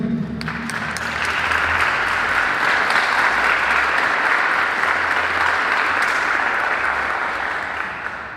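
A church congregation breaks into sustained, dense applause, loud and close, rising quickly and holding steadily before easing slightly at the end.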